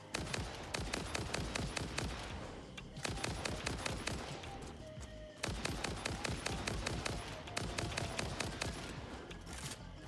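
Rapid automatic gunfire from guns in the video game Satisfactory, loud dense rattling bursts repeating in long runs with brief pauses between them, no talking.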